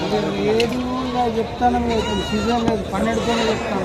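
At a village livestock market in Rajarampalli, local goats bleat repeatedly in wavering cries close by, amid the crowd's constant talking.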